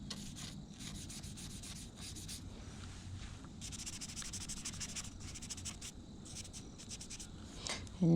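Colored pencils scratch and rub across paper in steady back-and-forth strokes for blending, close and fairly quiet, with brief pauses between bursts of shading.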